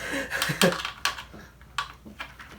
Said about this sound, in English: these snapping sounds coming from the screws